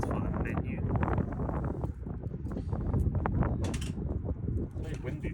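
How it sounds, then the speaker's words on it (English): Outdoor wind roars continuously against the microphone while a handheld console is being modded, a dense, steady rush with occasional stronger gusts, and people talk over it throughout. "It's very windy today."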